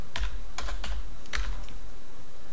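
Computer keyboard typed on while entering an SQL select query in a Microsoft Access tutorial: several quick bursts of crisp key clicks in irregular clusters, close and clear, with no talking.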